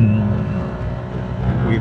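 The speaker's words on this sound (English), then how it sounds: "Nice Ferrari." A Ferrari sports car drives past close by, its engine giving a loud, steady rumble that swells slightly near the end of a brief moment.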